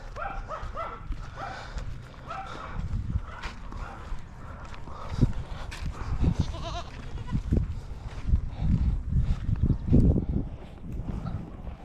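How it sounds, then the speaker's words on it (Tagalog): Goats bleat repeatedly, several calls at varying loudness, nearby outdoors with some background noise. "Kambing."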